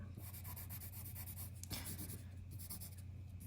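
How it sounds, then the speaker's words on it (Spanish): Ballpoint pen strokes scratching across paper while darkening the shaded areas of a letter drawing, a close, steady scratchy rubbing that continues throughout. "con el bolígrafo estamos consiguiendo un resultado más oscuro, potenciando así la parte de la sombra"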